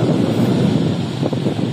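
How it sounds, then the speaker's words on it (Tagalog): Strong wind on the sea near Burias Island buffets the microphone in a loud, steady low roar, with no voices. "kaso malakas yung hangin"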